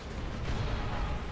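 Explosions in a tank battle in World at War: a dense, rumbling roar of blasts and booms that blends into one continuous loud barrage.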